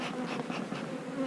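Honey bees buzz steadily at an open hive during a mite check and queen release, a close, continuous insect drone with slight swells and no talking.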